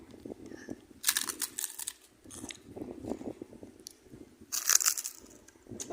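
Crunchy food, a crisp pork snack, bitten and chewed close to the mic in ASMR style, with loud bursts of crackling crunches in two clusters between quieter chewing.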